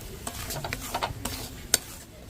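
Semolina is stirred while roasting in a pan with a little oil, giving soft scraping strokes over a faint sizzle and one sharp metallic tap of the spoon near the end.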